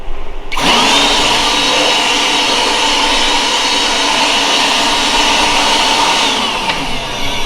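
Aftermarket cordless blower running on a DEWALT 20V Max battery, squeezed to full throttle: a loud, steady, high-pitched whine and rushing air that spins up sharply and holds for several seconds before easing slightly.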